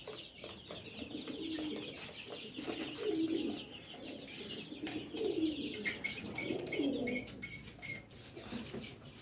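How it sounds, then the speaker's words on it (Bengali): Egyptian Fayoumi chickens, adults and chicks kept at a home, fill the air with overlapping soft coos, clucks and chirps that run continuously at moderate volume. "এই যে এগুলো সব মিশরি ফাউমি মুরগি।"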